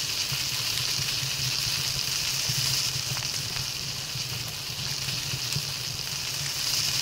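Food cooking in the game Palworld, a continuous hiss of sizzling with a faint watery crackle, steady and moderately loud with no voices.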